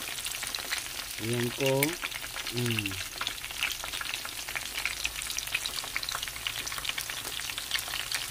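Tempura shrimp deep-frying in oil give off a dense, steady crackling sizzle, close and continuous, with a short spoken phrase early on.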